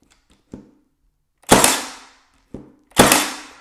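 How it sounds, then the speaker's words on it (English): A Milwaukee M18 Fuel 18-gauge Gen 2 cordless brad nailer fires twice, each a sharp, loud crack with a quick decaying ring, and each preceded by a small mechanical click, in a quiet room. "However, with this new model, it will fire, as you can see here."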